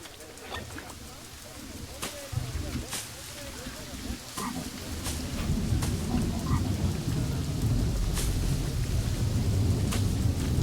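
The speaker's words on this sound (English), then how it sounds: "And we got some rain now" Steady rain builds into a heavy downpour in Planet Zoo, with sharp thunder cracks breaking through several times, and someone talks over the storm.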